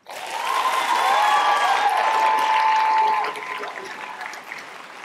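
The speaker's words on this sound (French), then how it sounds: "des applaudissements enthousiastes pour Léna Candiloro." Enthusiastic audience applause for a high-school student speaker at a student eloquence contest final, loud and sustained for about three seconds before easing into lighter clapping.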